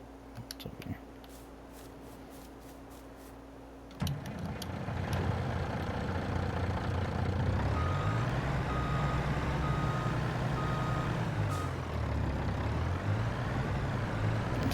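A truck in the video game Farming Simulator 22 idles with a low steady rumble, then the engine swells and a repeating reversing beep sounds steadily above it, loud and close.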